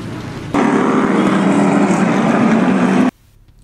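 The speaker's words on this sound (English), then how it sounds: "As the engines are all fired up" NASCAR stock car engines fire up together at the Long Beach 400 race, a loud, dense, steady roar that starts abruptly, holds for about two and a half seconds and then cuts off.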